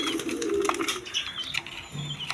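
Sky-blue Rajgolla pigeons coo in low, soft, steady murmurs with faint rustling and a brighter chirp now and then, close by and continuous, with no talking.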